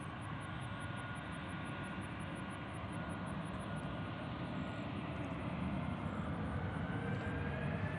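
JetBlue airliner at Nashville International Airport, a continuous broad jet engine roar that holds steady and swells slightly toward the end, heard from a distance outdoors with no talking.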